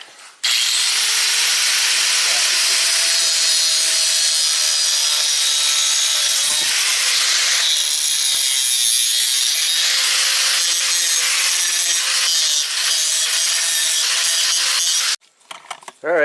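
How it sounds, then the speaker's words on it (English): An angle grinder shaves down a metal part from a 2003 Kia Rio, loud and close, with a continuous harsh, high grinding roar that runs for about fifteen seconds before stopping abruptly. "We're going to use a grinder."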